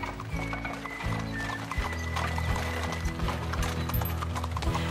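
Horses on a three-day trail ride through the Anjou vineyard hills give a steady, close clip-clop of hooves on the path, with a low rumble, a brief whinny and faint voices in the background.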